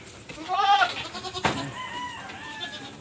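A pregnant goat bleats once, fairly close and loud, followed by softer bleating and farmyard sounds.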